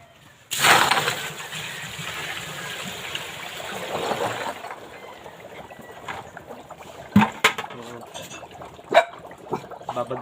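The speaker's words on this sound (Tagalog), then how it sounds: "Tapos lagyan natin ng tubig." Water gushes into bottles set to soak for washing, a strong splashing pour up front that eases into trickling, followed by scattered clinks and knocks of bottles being handled.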